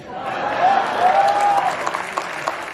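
A crowd applauds steadily at an awards ceremony, dense clapping filling the clip with a faint whistle and some voices mixed in.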